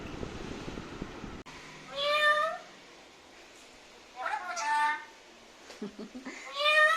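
A cat meows three times, drawn-out tonal cries spaced a second or two apart, fairly close and clear over a quiet room after a brief noisy start.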